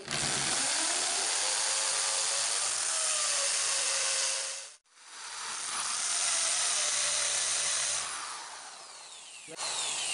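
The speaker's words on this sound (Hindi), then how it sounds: "तो अब मैं इसे ड्रिलिंग कर लेता हूँ।" An electric drill set to drilling mode bores a hole during open house-wiring work, a loud sustained whine that dips out briefly midway, then resumes steadily before trailing off near the end; no one speaks.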